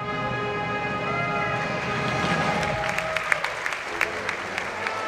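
Crowd applauding at a girls high school basketball game at Shelton, with a school band nearby: a steady wash of clapping at moderate distance, band tones underneath and a few sharper claps near the end.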